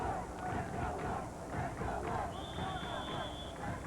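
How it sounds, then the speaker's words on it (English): A crowd chants for a wrestler at a 1996 Illinois high school boys dual team wrestling state final, rhythmic massed voices filling the gym steadily with general hubbub underneath. "The Moline crowd chanting, "Let's go, Woods.""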